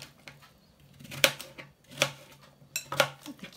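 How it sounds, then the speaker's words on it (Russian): A knife cuts zucchini into small cubes on a cutting board, three distinct sharp chops spaced about a second apart with softer handling sounds between them and no voices. "Кабачок нарезаю кубиками."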